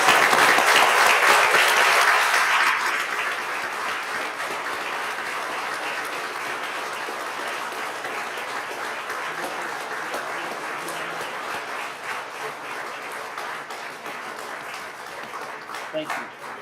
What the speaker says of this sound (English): Please join me with a warm applause for our November Veteran of the Month, Richa